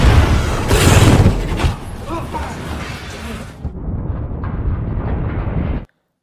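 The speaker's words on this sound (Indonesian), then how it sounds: "benar saja torpedo itu pun meledak dan membuat kapal selam itu jatuh ke dasar laut" A deep rumbling boom from a torpedo exploding aboard a 17,000-ton Russian nuclear submarine, loud and roaring, then a sustained lower rumble that cuts off abruptly.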